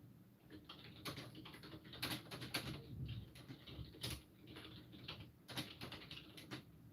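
Keys clatter on a computer keyboard in quick, uneven bursts of taps, close and quiet, with short pauses between runs of typing.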